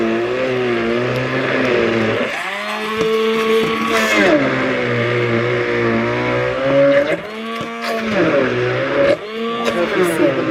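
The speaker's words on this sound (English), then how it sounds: "the immersion blender down into the bananas" An immersion blender mashes bananas with a loud, continuous motor whine whose pitch dips and rises as the blades work through the fruit.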